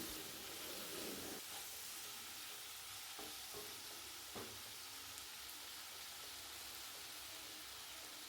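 Ingredients being sautéed in a pan with rock salt for a breakfast dish. A soft, continuous frying hiss, fairly faint, is broken by a few brief scraping stirs.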